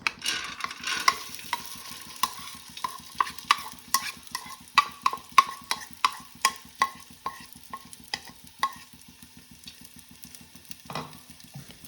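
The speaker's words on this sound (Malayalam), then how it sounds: "ഇതിലേക്ക് നമ്മുടെ ചൗവരി ഇട്ടൊന്ന് വരട്ടിയെടുക്കണം" Sago pearls roast in a little ghee in a pan for chowari payasam, giving a soft background sizzle punctuated by a steady run of sharp spoon-on-pan scrapes and clicks that thin out toward the end.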